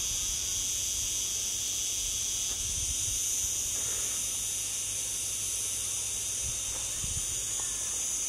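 Crickets on a cliffside in Mallorca give a constant high, shrill buzzing drone that stays steady and fairly loud, with faint low knocks and bumps underneath.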